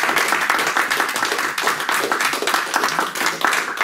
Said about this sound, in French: vous applaudir à nouveau, Fabrice Grenard